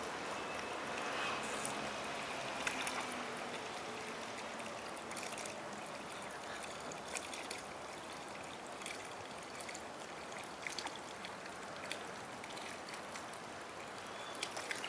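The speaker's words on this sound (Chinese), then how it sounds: "然后我现在就把布料一直装满水，" Water poured steadily onto tarp fabric during a waterproof test, a continuous close splashing and trickling that runs unbroken throughout.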